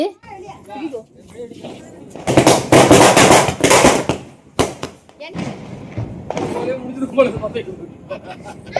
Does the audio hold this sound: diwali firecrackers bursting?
yes